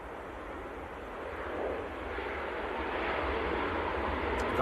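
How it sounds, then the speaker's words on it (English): A Ryanair airliner arriving from Naples touches down at Manchester Airport in freezing winter weather, a distant, steady broadband engine roar that slowly builds under wind noise. "Ryanair just touching down."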